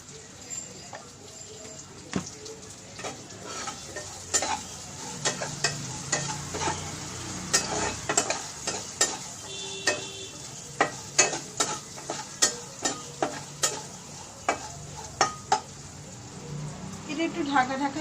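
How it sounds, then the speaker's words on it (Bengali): Food frying in a pan during home festival cooking with turmeric and a little sugar, a steady sizzle broken by repeated sharp clacks of a spatula stirring, up close and fairly loud, with a voice talking at times. "এবার ঢেকে ভাপে ভাপে সিমে রেখে আস্তে আস্তে ভাজা হবে।"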